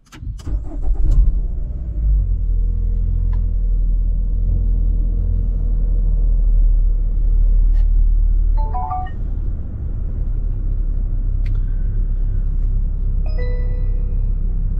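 A Nissan Elgrand E52 fires up with its push-button start, a quick cranking burst settling into a steady, close, low engine idle rumble, with a few faint electronic chimes sounding over it.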